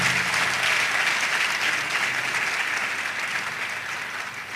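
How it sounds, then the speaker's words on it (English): A large hall audience at a university convocation applauds a prize winner, a thick, continuous wash of clapping that holds steady and fades slightly over several seconds, with no speech heard. "Applause for him."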